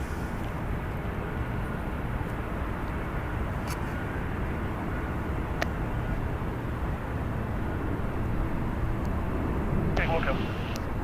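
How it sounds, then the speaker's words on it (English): A six-year-old Bombardier Challenger 650 business jet at San Francisco International Airport gives off a continuous engine roar in the background, while people talk and radio chatter runs over it. "It's a Bombardier Challenger 650,"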